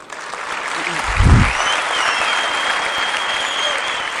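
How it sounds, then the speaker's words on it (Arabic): An audience at a poetry festival in Abha applauds in a steady wash of clapping that continues throughout, opening with a brief low thump. "صفقوا زين يا الربع"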